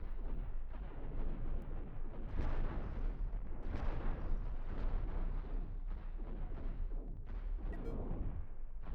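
Spaceship weapons firing in the space combat game Cosmoteer, a dense continuous barrage of booming, crackling shots and blasts that rolls on without pause, loud and close throughout.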